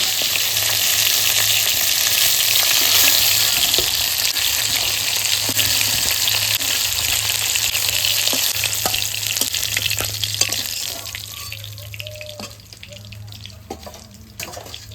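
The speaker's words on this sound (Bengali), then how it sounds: "শোল মাছ তো বেশি ভাজবে নাই হালকা ভেজে তুলে নিতে হয়" Snakehead fish frying lightly in a wok gives a loud, steady hiss and sizzle that softens in the last few seconds, with a few faint utensil taps and no talking.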